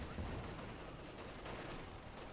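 Dense, continuous rattling gunfire from a crossfire in the World War II strategy game Company of Heroes 2. It is faint and distant, and it holds steady across the whole stretch without any clear individual shots.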